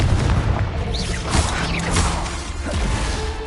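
Fiery Confringo spell blasts in the Hogwarts Legacy video game: loud booming explosions with whooshing swishes and crashing debris, several impacts packed into a few seconds.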